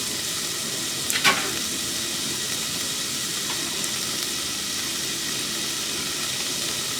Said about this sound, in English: I'm gonna throw it in there and mix it up too